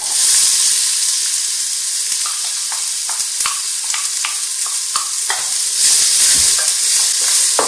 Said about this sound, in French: je les fais revenir à feu très moyen pendant 5 minutes ou jusqu'à coloration en remuant de temps à autre